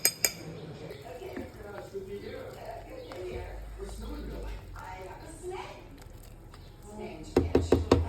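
Spoon stirring flour into meatball soup with sotanghon noodles and patola in a pot, clinking and scraping against the metal sides, with a few sharp knocks near the end, heard under continuous talking.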